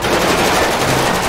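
Rapid machine-gun fire rattles in GTA 5, a dense loud burst of overlapping shots that goes on without a pause.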